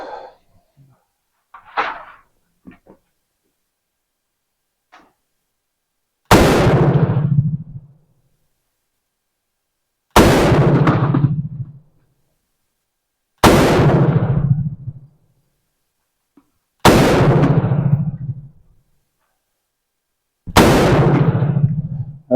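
An M16A1 rifle shooting Turkish ammunition in semi-automatic: five loud, well-spaced single shots, each a sharp crack with a short booming tail, after a few faint handling clicks.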